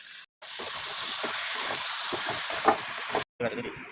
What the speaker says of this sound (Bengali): আলুগুলো ভাজা হয়ে গেছে মশলাটা দিয়ে দেবো